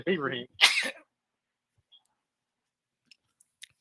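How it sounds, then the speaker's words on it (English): A single loud sneeze close to the microphone, a sharp burst followed by a short breathy release, then near silence with a few faint clicks. "I got a sneeze, y'all, so excuse me."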